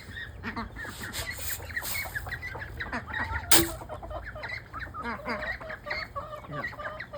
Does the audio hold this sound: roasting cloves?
no